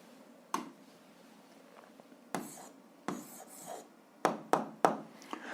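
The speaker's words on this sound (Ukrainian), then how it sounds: "Ну що ж, записуємо відповідь." Pen writing an answer on paper during a physics exercise, with a few short scratchy strokes separated by pauses and a quick burst of strokes near the end, close and quiet, with no talk.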